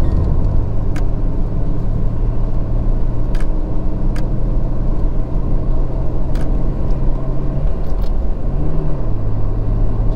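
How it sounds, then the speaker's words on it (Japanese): Nissan Skyline R33 GT-R (BCNR33) on the highway, a steady loud engine and road drone heard from inside the car, with a low tone that dips and shifts near the end as it accelerates. "じゃあちょっと加速します。"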